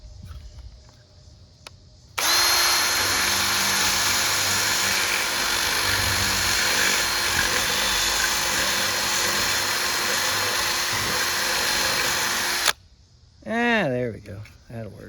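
A power tool cleans up a bolt hole in an Ultra Ramp extension under repair. A loud, steady grinding whine runs close by for about ten seconds, then stops abruptly, and a voice follows briefly.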